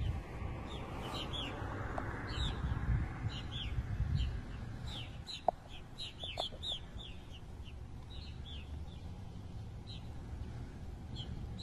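A flock of birds chattering and calling in bursts of bright chirps over a low background rumble, played back from a recording.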